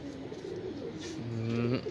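A pair of high-flyer pigeons gives soft, close, throaty coos in short repeated phrases, rising slightly toward the end, with no talk over them.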